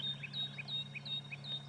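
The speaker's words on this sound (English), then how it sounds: "bird chorus" Birdsong on an African safari drive at sunrise, with faint repeated high chirps and tweets at a steady rhythm over a low, constant background hum.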